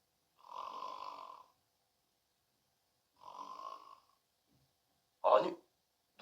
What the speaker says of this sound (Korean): 늑대의 코 고는 소리가 숲속에 울려 퍼졌습니다.